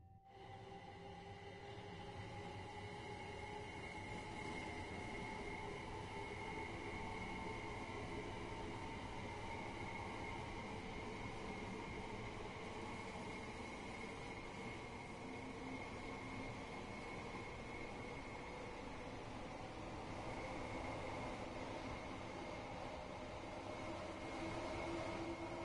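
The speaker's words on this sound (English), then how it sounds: "140 Class 375s were produced by Bombardier Transportation between 1999 and 2005." Bombardier Class 375 electric train in Train Sim running steadily, with a continuous loud motor whine and rolling rumble, several sustained tonal hums holding throughout, no talk.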